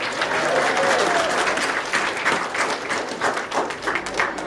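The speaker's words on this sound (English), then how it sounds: "let's hear a round of applause for our volunteer" An audience claps for a volunteer at a Japanese fairy-tale show, dense and sustained applause with the crowd's scattered voices mixed in, loud and close throughout.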